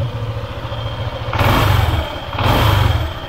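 Motorcycle engine idling at a steady low rumble, then revved twice in short bursts about a second each, near and loud with no talk, freshly changed oil after 6000 km.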